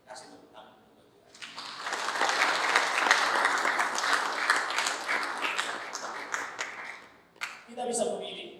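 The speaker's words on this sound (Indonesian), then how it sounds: "Oke, kasih tepuk tangan untuk Tuhan" A church youth congregation claps and cheers in a sustained burst of applause lasting several seconds, then it fades and a short second swell rises, with voices mixed in.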